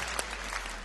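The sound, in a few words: studio audience applause on a quiz show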